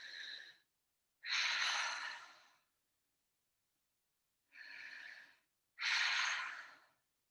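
Four audible breaths come in two pairs, each a softer inhale followed by a louder, fuller exhale. They are close and isolated, with silence between the pairs.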